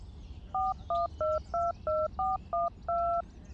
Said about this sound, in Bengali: পরের দিন খুব ভোরবেলা অফিসে পৌঁছে স্বাগতাকে ফোন করলাম।